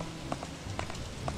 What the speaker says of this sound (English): And there's more rain.